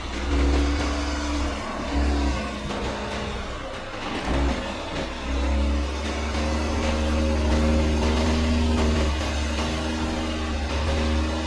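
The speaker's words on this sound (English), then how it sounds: "Volvo makes a good pace from the very start and easily copes with the first obstacle." A Volvo SUV on winter tires climbs an off-road slope with a steady engine drone and revving, a brief dip partway as it works through an obstacle, then a sustained push upward.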